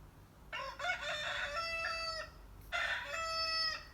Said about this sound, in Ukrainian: кожного ранку півник будить усіх у бабусі в селі